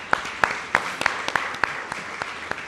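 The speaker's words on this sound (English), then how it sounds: "deserves a round of applause as well" Audience at the India Business Leader Awards ceremony gives a round of applause, with evenly spaced, fairly sparse claps over a steady hall ambience.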